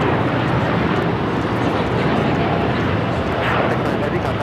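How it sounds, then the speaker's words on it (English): A Japan Airlines Boeing 787-9 Dreamliner taking off from LAX for Osaka gives a steady, loud broadband jet roar that holds evenly throughout, with a voice talking over it. "This is Japan Airlines Flight 69 taking off to Osaka on the 787-9 Dreamliner."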